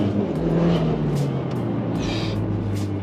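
A Mitsubishi Evo X turbocharged engine pulls in gear with a steady low drone rising gradually in pitch, heard from inside the car over its whole length with faint hiss.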